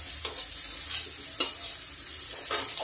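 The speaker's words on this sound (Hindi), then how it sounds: "अब इसमें डाल दिया प्याज, पक रहा है, पक जाइए" Onions cook in a pan with a steady, close sizzle, broken by a couple of sharp spatula scrapes against the metal, moderately loud with no talking.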